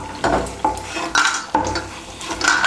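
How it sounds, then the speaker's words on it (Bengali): Fried lentil dumplings (bori) being lifted out of hot oil in a home kitchen, with repeated metal scraping and clinks of a spoon against the pan over a soft sizzle, several distinct strokes close by. "এখন আমি বড়িগুলোকে তুলে নিচ্ছি"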